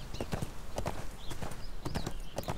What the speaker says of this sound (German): Jolly Jumper ist mein Pferd